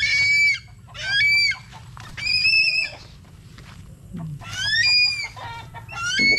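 Several fighting cocks and chickens cluck and squawk in bursts with a low rumbling hum beneath, busy poultry sounds close by.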